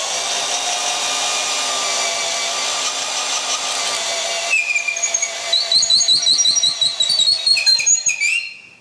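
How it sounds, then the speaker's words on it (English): A power drill whines steadily, then grinds unevenly as it bores through material, close by and fairly loud. "Remember, this drill has the forward and reverse."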